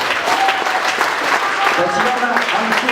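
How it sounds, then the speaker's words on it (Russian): An audience at a creative evening concert gives loud, sustained applause for performers called to the stage, while a voice speaks over the clapping. "Аплодисменты."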